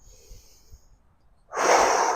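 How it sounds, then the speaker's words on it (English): A forceful exhalation during a qigong breathing exercise: after quiet low breathing, a loud, broad rushing breath-out starts about two-thirds of the way in and holds steady to the end. "We're breathing out a little forcefully."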